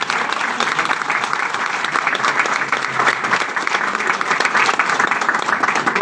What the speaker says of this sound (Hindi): जोरदार तालियां होनी चाहिए।